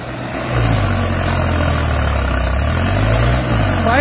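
A Farmtrac 45 tractor strains to pull a loaded trolley, its diesel engine revving up after a half-second and holding a loud, steady, heavy drone with slight pitch swells.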